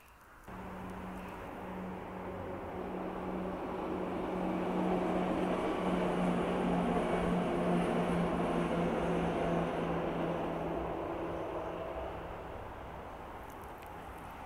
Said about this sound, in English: So I'll just stand here waiting for the train to come across.